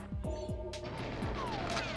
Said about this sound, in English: More gunshots in the distance.